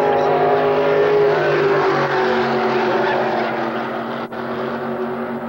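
A race car engine drones loudly and steadily at close range at the Sunoco Super Chevy Show in Bakersfield, California, a continuous rumbling roar with a brief dip near the end.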